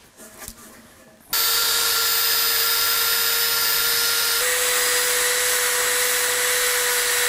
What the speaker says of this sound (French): je marque les petites retouches à faire à la lime électrique